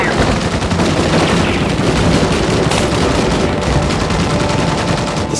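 Sustained automatic gunfire effects from the T2 3-D Battle Across Time attraction show, a loud, dense, unbroken barrage of rapid shots filling the whole stretch with a crackling roar.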